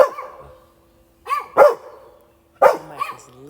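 Dogs bark in a few sharp bursts, three separate barks spaced over a few seconds, fairly close and loud, with a faint ringing tone between them.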